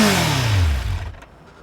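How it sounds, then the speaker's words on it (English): A Kawasaki Z1000 motorcycle, running a reworked ZX9 engine, revs hard and then drops away, its loud roaring tone sliding downward over about a second before easing to a quieter idle. "Now if that motor sounds familiar, that's because this is the old ZX9 motor."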